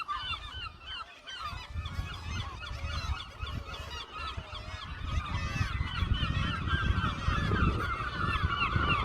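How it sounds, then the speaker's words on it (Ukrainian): A crowd of gulls and other seabirds on the Isle of May calls constantly, overlapping harsh honking and squawking cries from many birds at once, loud and busy over a low rumbling background. "Острів Крик, крики чайок та інших птахів."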